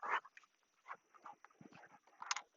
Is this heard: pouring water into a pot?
no